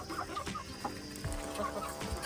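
Chickens cluck softly and continuously in a low, busy murmur while eating black soldier fly larvae treats, with no talking.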